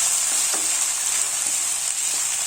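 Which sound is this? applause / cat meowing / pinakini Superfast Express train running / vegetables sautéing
vegetables sautéing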